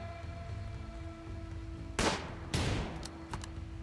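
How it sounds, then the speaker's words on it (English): Two sharp bursts of machine gun fire from an SMG in the colony game Rimworld, fairly quiet over a low hum, followed by a few fainter clicks. "Bennett, you came with a machine gun?"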